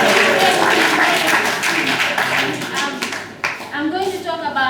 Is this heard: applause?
yes